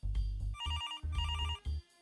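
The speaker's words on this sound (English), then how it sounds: "Ooh, phone call." Telephone ringing in the point-and-click game Demetrios: The Big Cynical Adventure, a clear electronic ring repeating in quick rhythmic bursts, close and alone with no talk.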